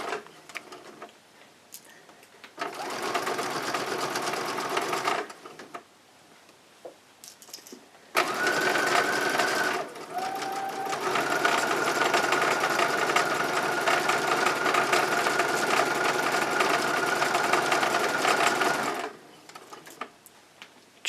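A sewing machine runs in two bursts, a short run and then a longer steady one, with a steady whirring drone as it stitches a curve in a cloth pad, the fabric twisted along the way. Brief pauses separate the runs and no voices are heard.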